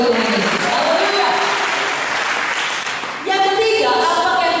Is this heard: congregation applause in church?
yes